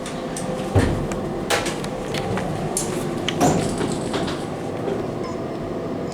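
A KONE MonoSpace 300 machine-room-less traction elevator in a parking garage rises with a steady low rumble and hum, punctuated by a few clunks and rattles of the car and doors, close and fairly quiet.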